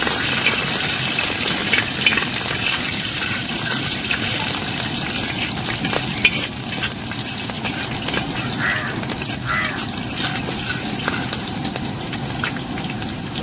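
Ginger and garlic sizzle in hot oil in a pan for a fish-head curry, a steady dense crackle and hiss that holds throughout at close range with no talking.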